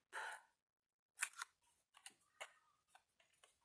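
Paper being cut with scissors for a craft gluing tab, a quick snip followed by a string of short, crisp cuts with brief pauses, close and quiet with no talking.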